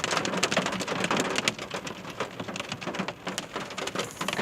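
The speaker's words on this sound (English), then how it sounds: "it is like hailing like crazy." Hail pounds down outside a gym during a heavy storm, a dense, loud, continuous patter of hard impacts with no voices.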